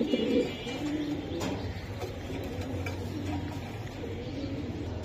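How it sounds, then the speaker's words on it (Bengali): A black-necked pigeon coos in low, soft, repeated rolling calls close by, with faint chirps in the background and no talking. "কালো গলা কবুতর ভাই, কালো গলা কবুতর"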